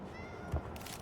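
A white cat in the video game Indiana Jones and the Great Circle gives a single short, faint meow over low ambient game background.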